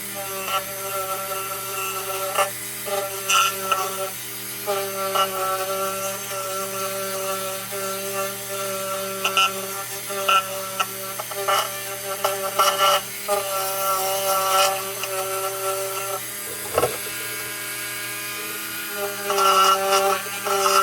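A wire wheel on a power tool scrubs a vintage Dietz junior lantern, a steady whirring motor hum with intermittent scraping bursts as the brush meets the metal, continuing throughout.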